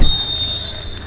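At a professional league football match in Goa, the referee blows one long, steady, shrill full-time whistle that holds for the whole moment over faint stadium background.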